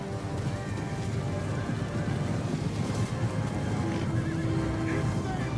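Galloping horses thunder in a battle sound effect, with a dense rumble of hooves, and several loud whinnies and neighs ring out over the charge, full and continuous throughout.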